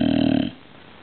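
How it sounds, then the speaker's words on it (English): A dog recovering from surgery snores loudly, one short rumbling snore with a buzzing, motor-like rattle that cuts off after half a second, close to the microphone. "But she is snoring. She snores loud too."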